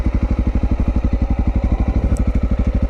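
A motorcycle engine putters at low revs in a rapid, even pulsing beat as a beginner rider starts to give it fuel, close and loud with no talk.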